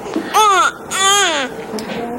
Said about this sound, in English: First, infants make sounds.